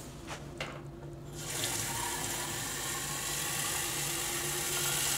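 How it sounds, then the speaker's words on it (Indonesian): A water bottle is filled from a tap in the Lower Rhine region of the Netherlands. After a few quiet knocks, a steady rush of running water starts and continues, close and fairly even. "Jadi kita tinggal isi pakai air keran."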